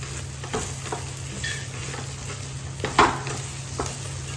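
Masala with salt, turmeric and garam masala being stirred in a pan for egg curry, a low steady sizzle broken by a few scraping stirs, one sharper clink near the middle, with no talk.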